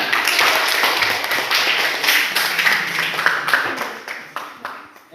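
A classroom bursts into group hand clapping for students who just finished a news text presentation, a dense, steady patter of many hands that tapers slightly toward the end.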